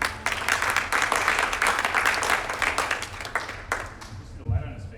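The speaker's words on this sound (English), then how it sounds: "Everybody give him a round of applause" An audience applauds a guest speaker being introduced remotely at a chiropractic marketing summit, with steady dense clapping over roughly four seconds that thins out toward the end, mixed with some voices.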